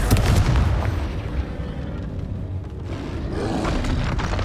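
Confringo spell explosion in the Hogwarts Legacy video game: a heavy, booming blast with a deep rumble that fades and then swells again, with no talking.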